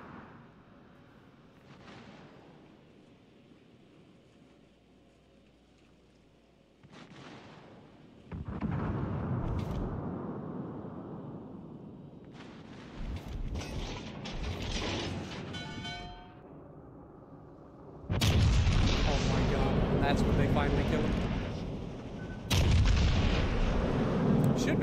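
Warship main guns firing in World of Warships Legends during a naval battle, heavy rumbling booms and sustained roaring salvos that grow louder and denser toward the end, no voices.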